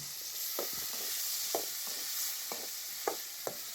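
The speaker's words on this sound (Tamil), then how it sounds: "மாங்காய் வந்து பார்த்திங்கன்னா எண்ணெயில் நல்லா வதங்கட்டும்." Mango pieces frying in oil for pickle, a steady close sizzle with a spoon stirring through it in regular soft strokes, heard alone.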